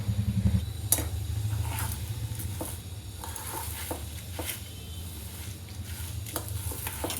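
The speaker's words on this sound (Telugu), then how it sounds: "కరివేపాకు కూడా ఒక కప్పు వేసుకోవాలి లో ఫ్లేమ్లో అన్నీ చక్కగా దోరగా కమ్మగా వేయించుకోవాలి" Curry leaves and spices fry on a low flame for an instant sambar tempering, giving a steady, gentle sizzle with soft stirring scrapes throughout and no talking.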